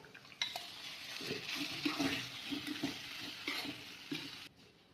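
Chopped lemon for Kerala pickle sautéing with curry leaves in a hot pan, a continuous sizzle under repeated stirring scrapes and light utensil knocks, close and moderate in level, easing off near the end.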